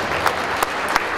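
Brief burst of dense applause at a ball in Děčín after a charity auction, steady crowd clapping with a few sharper claps standing out.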